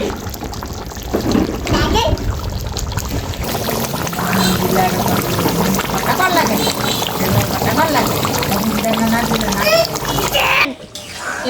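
Water is poured into a pot of sizzling browned beef, a steady splashing pour lasting several seconds, with voices talking nearby over the cooking.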